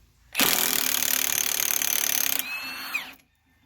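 A borrowed power tool spins loose a nut on a 2000 Silverado truck frame during a rebuild, a loud steady whirring burst of about two seconds that drops in pitch and winds down before stopping.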